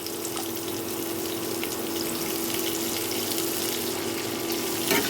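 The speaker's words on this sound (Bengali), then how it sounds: "পেঁয়াজটাকে এখন আমি একটু হালকা ভেজে নেব" Chopped large onion lightly frying in oil for a rohu fish-head muri ghonto makes a soft, steady close-up sizzle and hiss over a faint hum, continuous and without speech.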